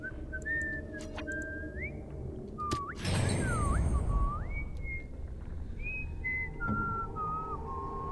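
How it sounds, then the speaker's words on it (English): A Dragon Age character whistles a wandering melody of sliding, sustained notes, clear and close, with a brief burst of noise partway through. "He's whistling."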